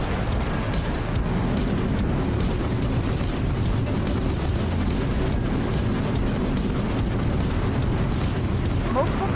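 Bomb blasts in a space sim game form a dense, continuous rumble of booming explosions. A voice speaks over the barrage.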